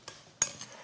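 A spoon clinks against a dish while vanilla is mixed into rhubarb, two or three short close scraping taps in an otherwise quiet kitchen.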